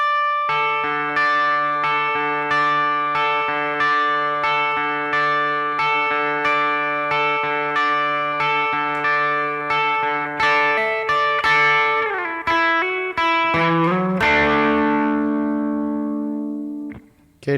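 Electric guitar with a chorus-type effect plays the chorus line of a song, ringing repeated notes in an even rhythm that shift to bends and a final sustained, decaying chord, played alone.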